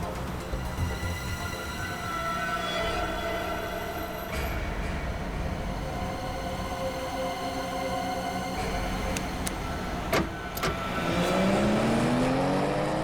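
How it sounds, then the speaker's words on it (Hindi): Car engine humming steadily as it drives along, joined late by a louder passing rumble like a truck, with brief sharp clatters near the end. "स्लो चलाओ गाड़ी"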